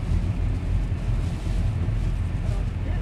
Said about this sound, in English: We got a little wind right now.